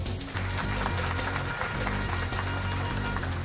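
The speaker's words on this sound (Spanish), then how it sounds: "Un aplauso." An audience at a political candidacy presentation breaks into continuous clapping, a dense, even applause that holds steady throughout.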